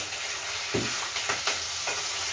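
Besan-coated green chillies frying in oil in a kadhai, a steady close sizzle with a few sharper crackles and pops along the way.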